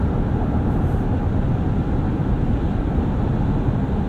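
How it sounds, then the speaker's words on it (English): Steady, dense tire roar fills the cabin of a 2025 RAM 1500 Crew Cab Laramie 4x4 pickup cruising at 70 mph on the highway, a constant low rumble with little wind noise and no talking. "A little bit of tire roar, but very little wind noise."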